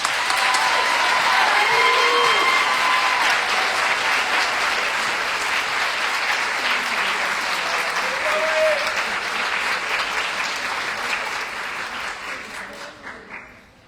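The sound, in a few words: applause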